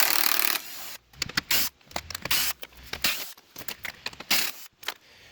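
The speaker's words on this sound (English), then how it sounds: "remove these Torx head screws" Torx head screws being backed out of the front end of an Electric Mini Cooper under the open hood: a string of short, close-up bursts from a driver and scraping handling clicks, with brief pauses between screws and no talking.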